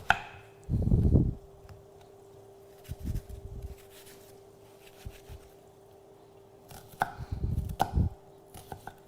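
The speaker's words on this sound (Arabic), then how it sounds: "ونروح نقطعها من البصل" Onion is sliced with a knife on a cutting board in a home kitchen, giving a few short bursts of chopping taps separated by quiet pauses.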